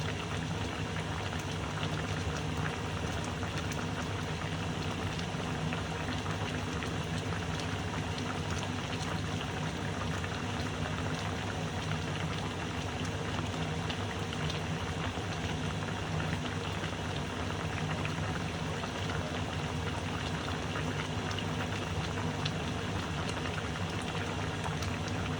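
Chicken adobo boils in a pot, producing a continuous dense bubbling and crackling simmer, steady and close throughout with no talking over it.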